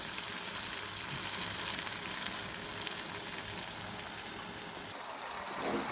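A steady, soft sizzling hiss of fish curry liquid bubbling in a hot pan after water is added continues without pause.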